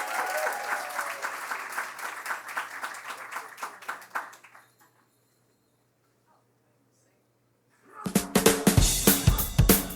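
An audience at a holiday market press event in downtown Washington DC claps and cheers loudly for several seconds, then falls silent before a second burst of applause with voices mixed in.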